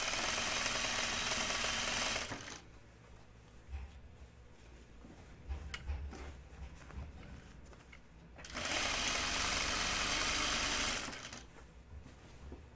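Serger overlocker stitching elastic onto a garment waistband, two loud, steady bursts of rapid mechanical whirring separated by a quieter stretch of handling and fabric adjustment.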